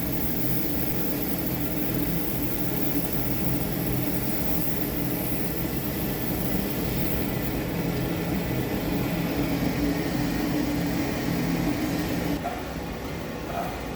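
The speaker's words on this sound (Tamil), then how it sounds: "நம்ம பெரிய ரோஸ்டர் மிஷினில் போட்டு வறுக்கிறது பார்க்கலாங்க" Large roaster machine tumbling coriander and chili for sambar powder, giving a steady loud mechanical roar and hiss that runs without a break throughout.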